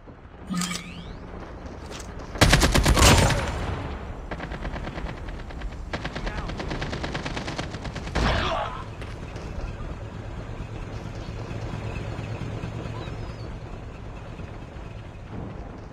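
Automatic gunfire in the mobile shooter Call of Duty Mobile, rapid rattling bursts, a loud close volley followed by steadier sustained firing and a sharp impact, over a low background hum.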